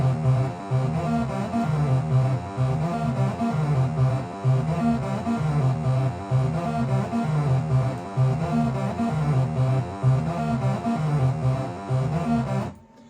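An Amiga plays a synth track built from a looping bass and melody pattern, dense and steady with a regular rhythmic pulse, then cutting off abruptly at the end.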